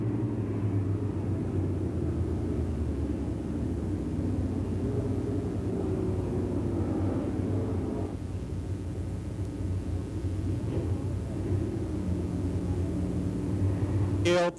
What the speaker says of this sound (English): Field thundering through turn number 4, looking for green.